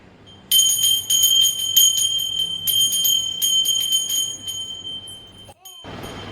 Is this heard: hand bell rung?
yes